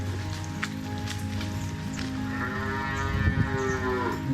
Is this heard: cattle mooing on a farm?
yes